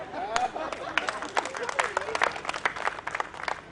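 Scattered audience clapping at a Hindi satire poetry reading during a literature festival in Dehradun, light and uneven applause with crowd murmur and a few voices mixed in.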